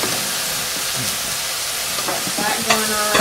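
Chicken pieces sear skin side down in a hot pan, giving a steady close sizzle and hiss of frying, with brief stirring clatter near the end and a short spoken remark over it.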